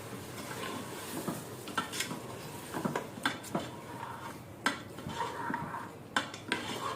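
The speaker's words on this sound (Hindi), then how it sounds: "दही के साथ इसको भून लें।" Mutton trotters stirred and roasted with yogurt in a pan, heard as repeated scraping and knocking of a spoon against the pan over a soft background hiss, moderately close and without talk.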